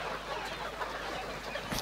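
Chickens cluck softly amid a dense, steady wash of barnyard noise, faint and continuous throughout.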